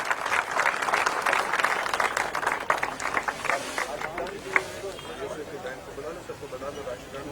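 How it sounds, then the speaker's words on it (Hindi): Audience applause at a bike rally for Azadi Ka Amrit Mahotsav in Jaipur: a crowd claps in a dense, steady patter that gradually thins and fades, with someone speaking over it through a loudspeaker. "जोरदार तालियां एनएसएस के लिए।"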